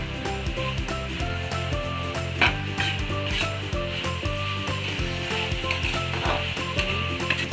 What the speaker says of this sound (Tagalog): Isan natin ng maigi hanggang sa maluto na ang karne.